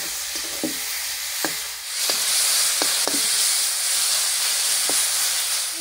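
Tomatoes with turmeric and chili powder sizzle in a pan, giving a steady broadband hiss with a few sharp scrapes of a stirring spoon scattered throughout.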